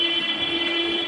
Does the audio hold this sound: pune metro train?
yes